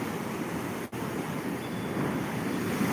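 High-tide ocean surf rolls and crashes in a steady, dense wash of water noise, close and loud, broken only by a split-second dip before the roar resumes under gusting wind.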